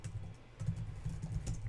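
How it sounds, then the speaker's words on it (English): Keys on a computer keyboard tap out a short run of soft, close keystrokes at an uneven pace, with a low hum beneath and no voice. "So if I type reload"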